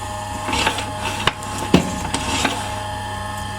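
A lathe hums steadily as a tailstock drill bores into soft HDPE plastic, with a few light clicks and scrapes along the way.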